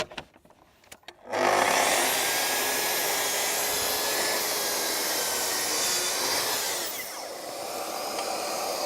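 A track saw trims a piece of wood. A sustained loud whine runs from start-up for several seconds, pitch shifting slightly near the end, with faint handling noises before it begins.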